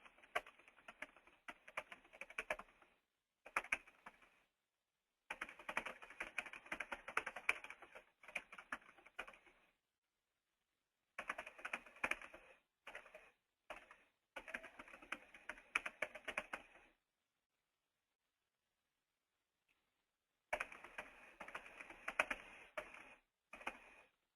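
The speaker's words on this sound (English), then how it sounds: "So I'm going to type out a sentence here of about 140, 150 characters" A sentence is typed on a computer keyboard in quick bursts of close, crisp key clicks separated by short silent pauses, with no talking.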